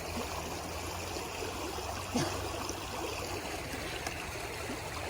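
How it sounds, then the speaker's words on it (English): A small creek flows steadily along the Appalachian Trail on a rainy day, a continuous close rushing wash of water with no voices. "I made it across that first little creek just fine"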